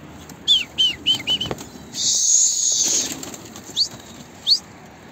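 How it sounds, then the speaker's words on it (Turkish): A pigeon flying low overhead gives several quick bursts of flapping wings, followed by a sustained high whistling tone and a few soft chirps, fairly close and with no talking. "Bakın arkadaşlar, kuş iyice alçaldı."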